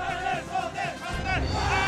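Korean army trainees at the Army Training Center shout and cheer together on the parade ground after finishing an eight-hour march, a loud, continuous massed roar of voices.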